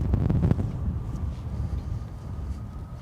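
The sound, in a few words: wind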